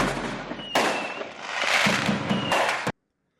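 A recorded bite of fireworks plays loud and close, with dense crackling bursts and booms packed over about three seconds before cutting off abruptly to silence.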